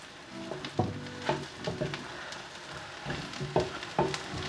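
Onions sautéing in a pan for a spicy prawn curry, a soft steady sizzle with several scraping stirs of a utensil against the pan, close by and with no talking.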